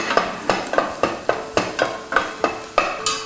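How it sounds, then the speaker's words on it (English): A clove of garlic fries in olive oil in a pan under a soft sizzle, while a spoon stirs it in quick regular scrapes, about ten sharp strokes in a row. "I'm going to go ahead and add some more olive oil to that too, and I'm going to get a clove of garlic working in it."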